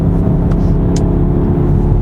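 A 2018 Mercedes-AMG E63 S Edition 1 4MATIC+ with a turbocharged engine pulls hard, giving a loud, continuous engine drone from inside the car with no breaks across the short stretch.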